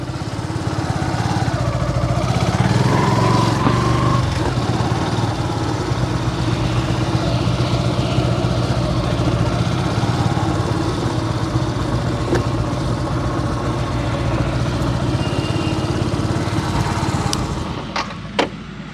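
A Yamaha FZ S v3 motorcycle engine runs steadily near the listener during a tight U-turn, a continuous mid-pitched hum with slight revving that drops away at the end, no speech.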